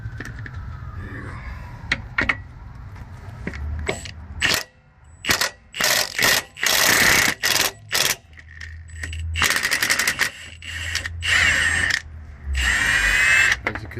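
Milwaukee cordless impact wrench on a 5 amp battery backing out a shock bolt on a 2010 Ford Escape, loud close bursts of rattling hammering separated by short pauses, alone without talk.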